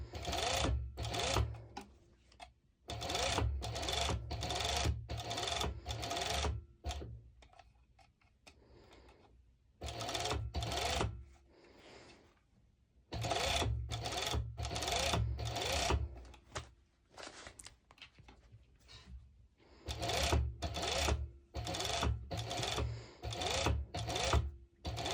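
A sewing machine top-stitches elastic onto a one-piece swimsuit, running in quick, close bursts of rapid ticking separated by short quiet pauses as the fabric is guided.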